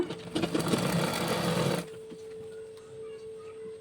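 A sewing machine stitches Punjabi dress pants, running loud and steady for about two seconds before the stitching stops. A quieter motor hum lingers alone afterward.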